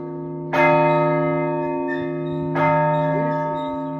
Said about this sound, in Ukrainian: Ось цей найбільший дзвін.